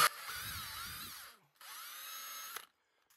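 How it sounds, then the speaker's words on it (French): A cordless drill-driver bores and countersinks into stone during a wood-and-pellet boiler installation, two loud high-pitched whirring bursts separated by a short pause, close and clear. "on arrive au moment où on vient tout simplement percer la pierre, fraiser. Donc ça, on le fait à l'aide d'une visseuse."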